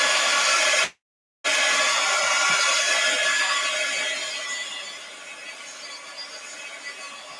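A heat tool blows steadily to dry paint on an art journal page, a loud continuous whoosh that cuts out briefly and then restarts, fading somewhat toward the end.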